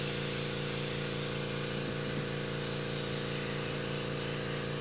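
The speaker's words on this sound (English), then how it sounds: "hold it in place, and then just airbrush this" An airbrush sprays dark brown paint onto a backdrop in a steady, unbroken hiss lasting several seconds, close and even with a constant low compressor hum underneath.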